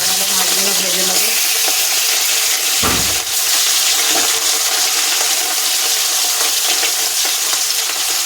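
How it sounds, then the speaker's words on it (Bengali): Pieces of rui fish fry in hot oil, giving a steady loud sizzle with bubbling and a brief splash or stir partway through. "মাছগুলো ভেজে নেবো।"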